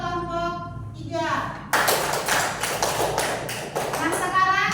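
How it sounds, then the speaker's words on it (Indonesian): A classroom group breaks into applause for the third team after its score is announced, a burst of dense clapping starting sharply and carrying on for a few seconds, with voices mixed in beneath. "Tepuk tangan untuk kelompok 3."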